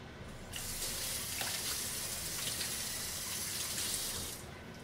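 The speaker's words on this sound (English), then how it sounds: "rinse off your hands" A kitchen tap runs steadily while hands are rinsed after oiling fish, giving a close, even splashing hiss that starts abruptly and cuts off near the end.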